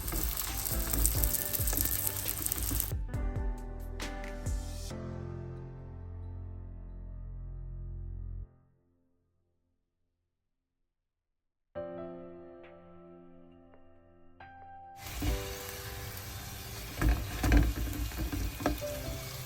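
A vegetable-stuffed roti cooks in a pan over low heat, giving a crackling sizzle that fades to near silence midway, then returns louder and busier once the roti is turned, with no voices.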